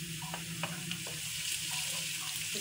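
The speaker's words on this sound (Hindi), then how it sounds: "इसके साथ इसको फ्राई करते हैं जब तक कि ये अच्छी तरह से इसका कलर चेंज नहीं हो जाता है लहसुन अदरक" Garlic-ginger paste frying with light-browned onions, a soft, even sizzle under a low background hum, with a few faint stirring taps.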